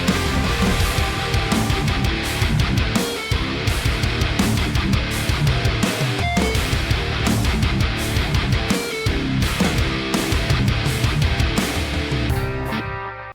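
An alternative rock riff plays on palm-muted electric guitar, with bass and a guitar synth layered in. The full band sound is loud, dense and driving, with steady chugging rhythm throughout and no talking.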